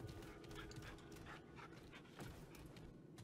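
A dog pants steadily in Remnant 2, fast rhythmic breaths repeating without pause over a dense, noisy game soundscape.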